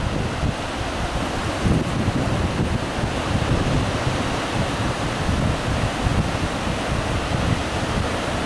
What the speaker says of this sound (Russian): На море ветер и волны.